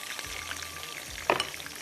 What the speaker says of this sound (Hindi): जब तक ये फ्राई होगा।